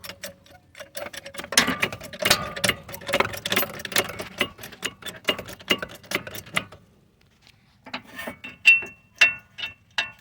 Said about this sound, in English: I'm gonna tighten the jack, and then the whole strut assembly will start going up